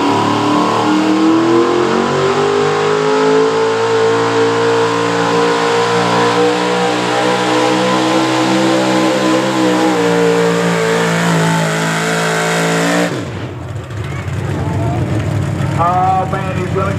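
Pulling truck engine at a truck and tractor pull in Caldwell, Ohio, roaring loud and sustained with rising revs for most of the pass, then cutting off into a rough idle and crowd noise near the end.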